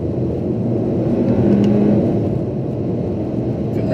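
A VW Golf SportWagen on a test drive accelerates with a steady, close engine rumble and low road drone that holds for several seconds, with no talking over it.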